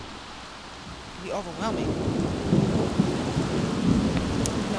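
Steady heavy rain with rolling thunder in The Sims 3, a dense wash of rainfall that swells as the thunder rumbles in, with a brief voice speaking over it.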